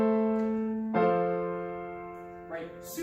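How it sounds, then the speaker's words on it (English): A simple pop chord progression on piano, a held chord followed by a second chord struck about a second in and a third near the end, ringing alone and decaying softly between changes. "And so that creates a chord progression that sounds like this."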